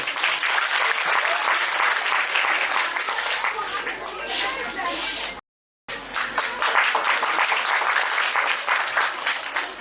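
Sustained, loud audience applause fills a school award ceremony, steady and dense throughout, briefly cut by a short gap of silence midway before the clapping resumes just as full.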